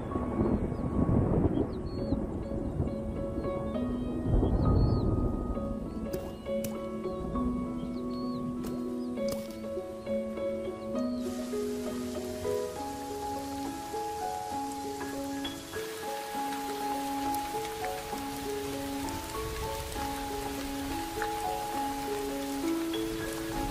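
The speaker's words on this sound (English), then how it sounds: "After months of drought and struggle, the rains finally arrive." Rain falls steadily after a long drought on the African savanna, with rumbles of thunder early on and a soft musical score rising beneath the downpour.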